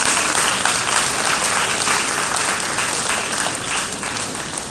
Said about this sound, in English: I think we can give him a great round of applause.